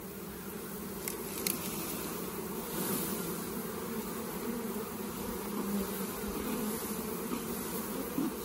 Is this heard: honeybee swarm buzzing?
yes